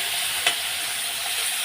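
Flat beans frying in a pan, a steady broadband sizzle with one brief stir or scrape partway through, close and continuous with no talking.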